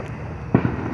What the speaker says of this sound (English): I have got to go out here and catch some of this action-packed fireworks